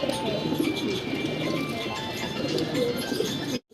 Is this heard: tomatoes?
no